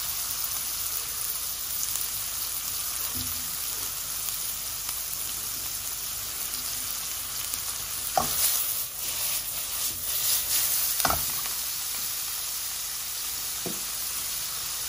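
Mushrooms sear in a hot pan for shrimp and vegetable nems, giving a steady close sizzle with a few brief clinks and stirring sounds over it.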